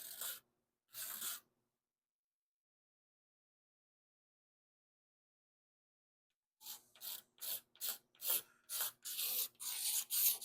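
Duraglas body filler is shaved by hand while still curing, heard as two short, close rasping scrapes, then a long silence, then a quick series of scraping strokes.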